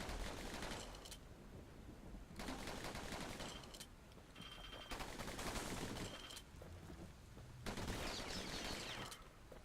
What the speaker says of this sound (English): So, dueling pistols that I can fire like this.